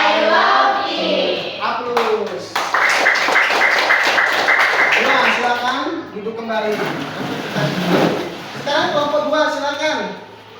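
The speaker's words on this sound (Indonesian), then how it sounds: "Coba kita ice breaking, tepuk semangat dulu." A classroom group claps out a rhythmic patterned chant, bursts of sharp hand claps in quick sequences alternating with speaking and chanting voices throughout.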